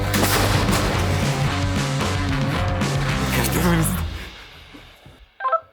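A powerful 155 mm self-propelled howitzer blast fills the air, its heavy rumble rolling on for several seconds before fading, followed by a few faint clinks.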